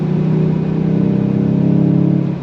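A VW Golf GTI 8.5 turbo engine in sport mode hums steadily and loudly, with a deep droning tone that swells slightly as it revs, heard from close by with no talking.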